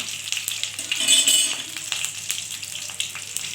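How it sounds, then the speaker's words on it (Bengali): Bay leaf, dried red and green chillies fry with panch phoron in hot oil, giving a steady crackling sizzle that swells briefly then settles, with scattered light pops and faint stirring clinks, no speech. "তেজপাতা শুকনো লঙ্কাটা আর কাঁচা লঙ্কাটা এটা একটু ভালোভাবে ভাজা করে নেব"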